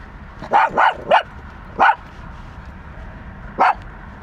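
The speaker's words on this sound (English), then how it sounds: "right out in front where the lady's walking the dog" A dog being walked near a lakeside cove barks loudly, three quick barks in a cluster, then a single bark, then another after a pause, over a low steady background rumble.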